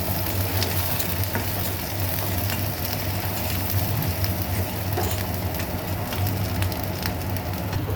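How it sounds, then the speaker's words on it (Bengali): Onion and chili frying in mustard oil in a wok give a steady, close crackling sizzle that stays even and unbroken the whole time, with no voices. "প্রথমে আমি কড়াইতে একটু পেঁয়াজ এবং মরিচ দিয়ে দিলাম,"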